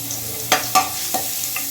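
Garlic sizzles steadily in hot oil as it is stirred in a pan, with a few sharp scraping clicks of a utensil.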